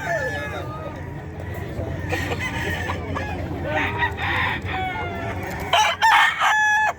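Roosters crow repeatedly nearby amid clucking hens and a murmur of people talking in the background at a pet market in Bocaue.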